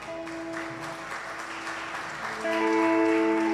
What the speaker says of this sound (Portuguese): Você pode dar um aplauso para o Senhor?